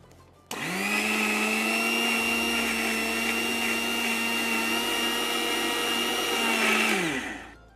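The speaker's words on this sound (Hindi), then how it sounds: "तो जब तक ये पेस्ट ना बन जाए इसे ग्राइंड करते रहना।" A kitchen grinder blends powder with oil into a paste, starting abruptly and holding a loud, steady motor whine for about seven seconds before winding down, close and alone with no voices.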